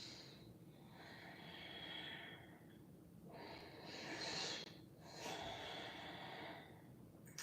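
Slow, deep breathing during a held yoga pose, with three long airy breaths audible close up in a quiet room.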